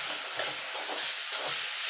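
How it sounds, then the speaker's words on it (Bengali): Taro leaves cooking with hilsa fish head are turned in a pan, a steady hissing sizzle with a couple of faint stirring scrapes over the short stretch. "ভালো করে নেড়ে নেব।"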